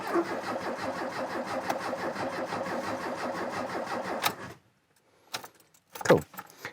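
A car engine cranks for about four seconds with a steady rapid churning rhythm, close and loud, fails to catch, then stops; a brief clunk and a couple of short rattles follow in the quiet.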